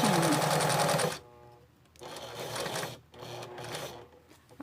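A sewing machine stitching the inner seam of a patchwork dish towel, a loud steady whirring run that stops, then two shorter stitching bursts separated by pauses.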